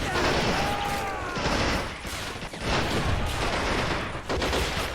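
Dense gunfire and crossfire in a WWII Stalingrad city battle in Men of War: Assault Squad 2, with rapid overlapping rifle and machine-gun bursts and thuds that pound continuously and loudly, with a brief lull midway.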